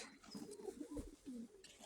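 Close, low throaty cooing from a brown Crimean-breed domestic pigeon in a loft, a few soft rolling pulses with slight rises and falls, fairly quiet against faint background noise.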